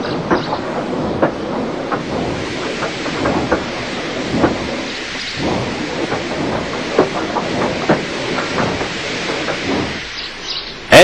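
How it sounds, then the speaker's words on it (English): A steam engine train rolls steadily along the rails, with a continuous loud rumble, rhythmic clickety-clack and hissing throughout, close by and with no voices. "they uncoupled Gordon, who had enough puff to slink onto the siding out of the way"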